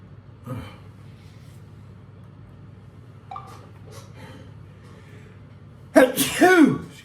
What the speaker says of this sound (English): I'm having a sneeze or something awful today